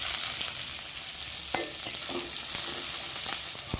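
Chopped onions fry in oil in a kadai, a steady close sizzle with a few light stirring clicks and a sharper tap partway through.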